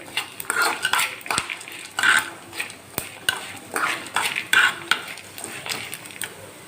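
Tamarind fried in a pan for a drumstick-leaf spice powder, with a spoon scraping and clattering against the metal in uneven bursts over a faint background sizzle.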